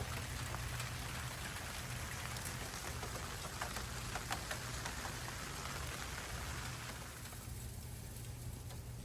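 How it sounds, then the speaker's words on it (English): Steady rain falls during an outdoor smoking cook, a soft, even patter of drops on surfaces with faint low hum beneath, continuous and fairly quiet throughout with no talking. "So we thank God for this rain today."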